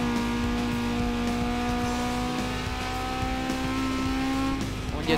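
A race car in Need for Speed Most Wanted roars at steady high revs, the engine note climbing under hard acceleration with brief tire squeal as it drifts, loud and continuous throughout.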